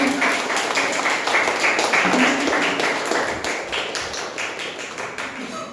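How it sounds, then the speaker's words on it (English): Applause from the audience at a Toastmasters club meeting, a steady, moderately loud patter of many hands clapping that holds throughout and eases slightly toward the end. "Huge round of applause for"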